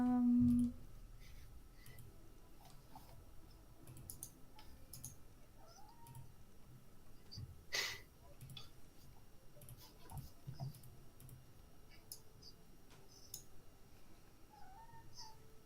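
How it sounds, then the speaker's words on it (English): A cat whines and meows faintly in the background of a quiet room, a few thin, drawn-out cries scattered across the stretch alongside soft ticks and small clicks. "Yeah, I hear the cat noises in the background. Yeah, he's whinging."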